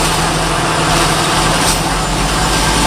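Heavy electric hybrid buses rumble past one after another, a steady loud low engine drone with broadband road noise and no voices.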